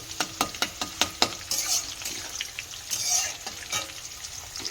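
Onions and other ingredients for aloo dum tipped all at once into hot oil, giving a bright sizzle with sharp clinks of a utensil stirring against the pan, then a steadier hiss of frying.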